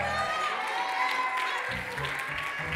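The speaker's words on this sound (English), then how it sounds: "Clap your hands." A church congregation at a ministry service claps hands in a steady, lively wash of applause, with a voice talking over the clapping and low tones sounding underneath.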